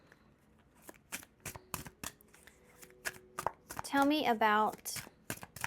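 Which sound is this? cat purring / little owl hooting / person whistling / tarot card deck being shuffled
tarot card deck being shuffled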